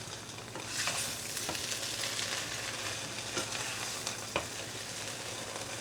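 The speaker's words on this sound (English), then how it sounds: "So what you're doing, you turn it over so that the rest eggs" Matzo brei eggs frying in a pan, a steady close sizzle broken by several sharp scrapes and clacks as the mixture is stirred and turned over. No one speaks.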